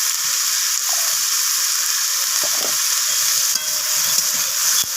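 Amaranth greens with bitter gourd frying with red chilli and cumin powder in a pan, a loud continuous sizzle with occasional stirring knocks, close and steady without talk.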